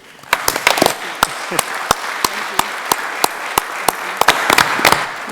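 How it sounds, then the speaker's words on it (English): Audience at a Texas commissioners court meeting gives a round of applause for an honoree, a few seconds of scattered, uneven clapping with sharp individual claps standing out over a murmur of voices in the room. "so a round of applause for Sylvia"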